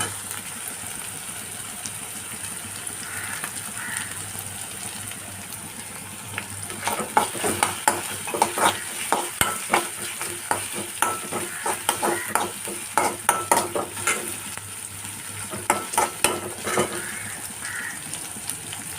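Green chillies stir-fry in a hot pan for a beetroot and dried-bean thoran, a steady oily sizzle broken after a few seconds by repeated scraping stirs of a spoon against the metal pan.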